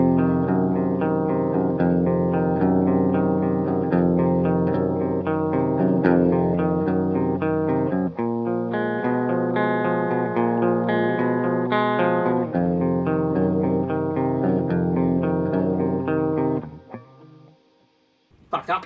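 An electric guitar plays clean, chiming chords and notes through an Orange Super Crush 100 amp, loud and continuous with a ringing sustain, fading out near the end before a final pick noise.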